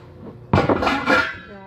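Pots and dishes clatter as they are handled while washing up, a sudden close metallic clank followed by ringing clinks that fade out over about a second.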